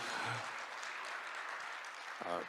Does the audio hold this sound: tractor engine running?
no